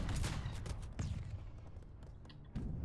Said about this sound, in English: So we got two demi cannons here now focusing the fort.